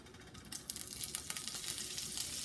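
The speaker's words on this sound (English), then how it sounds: "We're going to add in 1/2 cup of diced ham." Diced ham sizzles in hot canola oil in a cast iron skillet over medium heat, a steady bright crackle that swells as the pieces hit the pan and keeps frying close up.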